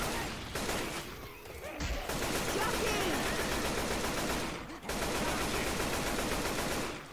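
Sustained rapid automatic gunfire rattles almost continuously in the zombie shooter Left 4 Dead 2, dense and loud with a brief break near the middle, while a voice talks faintly underneath.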